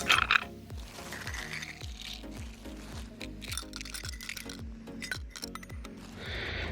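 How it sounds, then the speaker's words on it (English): Ice cubes poured into a glass coffee carafe for iced coffee: a dense run of sharp clinks and clatters as cubes tumble and knock against each other and the glass, sustained for several seconds and close by. "take your carafe and fill it with 250 grams of ice cubes"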